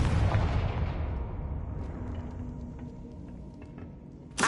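A Confringo spell detonates in the Hogwarts Legacy video game, opening with a loud booming blast that trails off into a long fading rumble, then another sharp burst hits right at the end.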